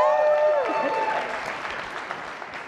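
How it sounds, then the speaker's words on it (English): Audience applause fills an ASU+GSV Summit 2024 education innovation showcase, a dense burst of clapping with whoops and cheering voices that stays loud and steady before easing slightly toward the end. "Clap it up!"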